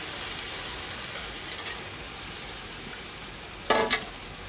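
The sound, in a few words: soaked rice frying with onion and garam masala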